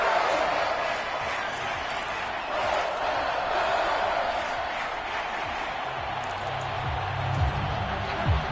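A stadium crowd in the football game Madden 24, Vikings at Lions, gives a steady, dense roar that swells slightly near the end, with a commentator's voice faintly underneath.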